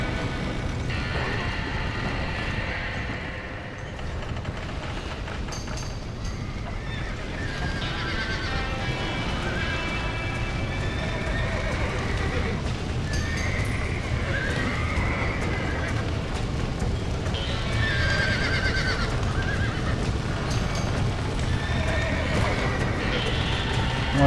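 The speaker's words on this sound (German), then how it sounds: "Oh, die armen Pferde." Horses neigh and whinny repeatedly in the Red Dead Redemption video game, with hooves clip-clopping amid steady game ambience while someone talks over it.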